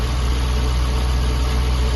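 A Jaguar XK8 petrol engine, left unstarted for seven years on its original old fuel, idles steadily and smoothly, a close continuous hum with no speech.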